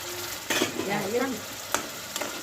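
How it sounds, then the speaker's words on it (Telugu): Masala fries in oil in a pan for a fish curry, giving a steady close sizzle, with a few scraping stirs and knocks against the pan. "ఈ మసాలా వేపుతున్నాను ఇది మసాలా వేపుతున్నాను"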